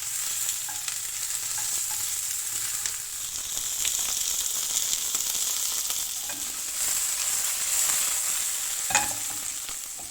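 Beef sausages cook in a pan on the stove, making a steady, fairly loud sizzle that carries on unbroken with occasional small spits and pops, and no talking.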